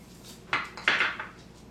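A spoon scrapes and clinks against a bowl while stirring a flour and sugar mixture, with a few sharp clatters in quick succession over a quiet room.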